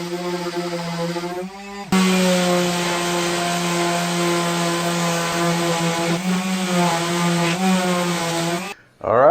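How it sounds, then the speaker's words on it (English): A palm sander fitted with 100 grit sandpaper runs steadily on wood, giving a loud, continuous motor whine with a strong even hum. It stops briefly near the start and cuts out again at the end. "I'll just use my palm sander. I'll put this 100 grit sandpaper on there"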